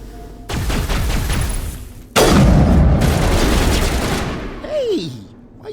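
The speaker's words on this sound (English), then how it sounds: "Hey, why are you shooting me?" Rapid bursts of gunfire from the Mass Effect video game, one volley and then a louder, denser barrage that fades into a short synthetic whine, all close and loud with no talk over it.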